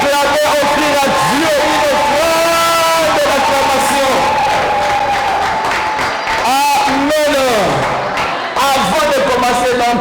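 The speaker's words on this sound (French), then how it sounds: "Est-ce qu'on peut acclamer, offrir à Dieu une offrande de l'acclamation?" A church congregation cheers and acclaims together, loud voices shouting, whooping and singing out over a sustained crowd roar lasting the whole stretch, with rising and falling vocal swells near the end.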